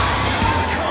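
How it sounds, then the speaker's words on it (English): A wrestling arena crowd roars and cheers for Bull Stresser and Dylan Cook at a Global Championship Wrestling show, a loud, continuous wash of shouting and whooping throughout. "Listen to these people get behind Bull and Dylan Cook."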